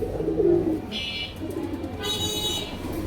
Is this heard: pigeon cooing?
yes